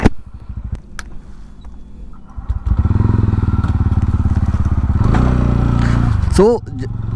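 A TVS Ronin motorcycle starts off and rides, its engine thumping at idle and then rising into a loud, steady drone close to the microphone, with a brief rev change near the end.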